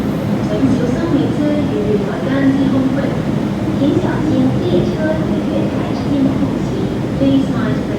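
An MTR Gen 2C train runs at Tsim Sha Tsui Station with a continuous low rumble and rolling noise throughout, close and fairly loud, with voices mixed in.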